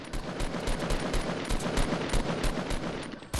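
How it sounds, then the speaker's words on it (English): Rapid, sustained automatic gunfire in a video game battle royale match, dense bursts of shots rattling continuously at close range with no pauses. "I'm gonna take shots."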